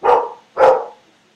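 A single dog barks loudly twice in quick succession, each bark a sharp, full-bodied burst that fades over a fraction of a second, close and clear with no talking over it.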